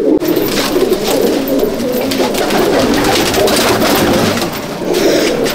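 Pigeons cooing inside a top-class pigeon loft in Chandannagar, Hooghly, many birds making overlapping throaty coos and rustling, close and loud, continuous throughout with no speech.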